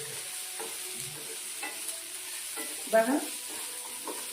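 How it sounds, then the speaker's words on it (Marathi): Peanuts, garlic and cumin stirred through hot oil in a pan, a soft steady sizzle with scraping strokes of the spoon and one louder clatter near the end, while someone speaks briefly. "हे बाते शेंगा आहे, हे लसूण आहे, हे जिरा आहे. आता हे तेलामध्ये मी मिक्स करून घेते पूर्ण."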